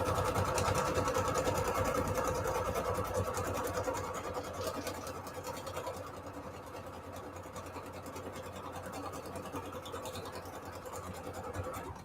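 A sewing machine running a decorative stitch on paper, a continuous buzzing mechanical whir with a fast needle rattle, close and steady, easing slightly softer after the first few seconds, no voices.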